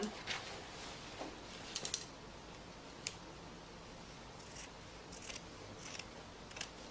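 Scissors cutting through thick fabric during sewing, with quiet intermittent snips and crunchy blade closes spread across the stretch, close but faint over a low background hiss.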